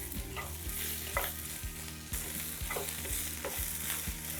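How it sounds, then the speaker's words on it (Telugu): Coriander leaves fry in a pan while being stirred, giving a steady close sizzle with repeated scraping strokes of a spoon throughout, for a Telugu cucumber chutney. "ఇప్పుడు మనం ఇందులో కొత్తిమీర వేసుకోవాలి కొత్తిమీరని కూడా పచ్చివాసన పోయే వరకు వేగనివ్వాలి"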